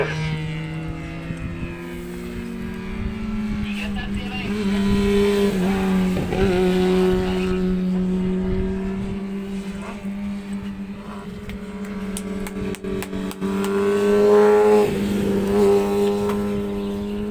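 Racing motorcycles, including a Kawasaki ZX6, scream past at Kirkistown circuit in Northern Ireland, engines rising and falling in pitch as several bikes approach and pull away, loud and sustained.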